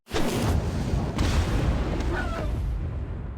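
In the Mabinogi Mobile video game, a fire mage's Flame Cannon skill detonates in a loud, sustained explosive roar with rumbling bursts and crackle that stay strong before tapering off.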